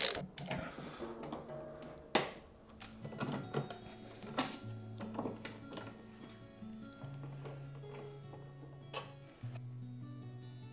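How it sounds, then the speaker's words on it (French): A 13 mm socket wrench ratchets as it loosens the fixings on a washer-dryer's drum assembly, giving close, repeated metallic clicks and turns interspersed with knocks and scrapes of parts being shifted. "utiliser une grosse clé comme ça à douille de 13"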